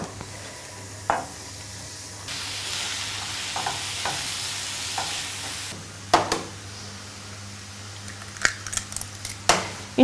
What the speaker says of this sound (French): Les courgettes taillées, on va pouvoir les faire légèrement revenir avec les oignons.